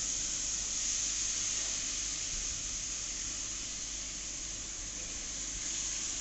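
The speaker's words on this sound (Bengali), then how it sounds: "তেলটা গরম হয়ে গেছে অলমোস্ট এবার চিকেনটা পুরোটাই এর মধ্যে দিয়ে দেওয়া হবে" Marinated chicken goes into hot oil in a home kitchen, giving a steady, even sizzling hiss that holds throughout without breaks, alone with no talk.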